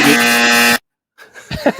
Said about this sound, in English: it's just like a buzzer